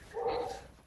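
A dog gives a single short bark or yip at moderate distance, brief and somewhat faint, with no talking over it.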